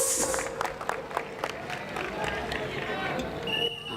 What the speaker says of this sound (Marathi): एकदा टाळ्यांच्या कडकडाटामध्ये करूयात का आपण आपल्या या क्रीडापटूंचं स्वागत एकदा टाळ्यांचा पाऊस